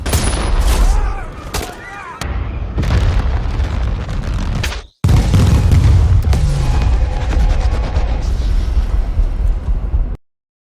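Heavy bombing blasts from an action film scene: a string of booming explosions and crackling bursts, loud and close, broken by a brief silence before a long roaring blast that cuts off abruptly.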